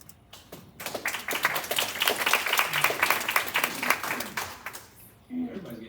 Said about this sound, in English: Everybody's getting claps today